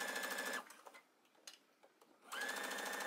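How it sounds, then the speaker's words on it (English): Sewing machine running a close edge stitch along a trouser front panel, with two steady bursts of rapid mechanical whirring separated by a quiet pause holding small clicks and handling noises. "What we're gonna do now is a stitch really close to the edge that holds this piece down,"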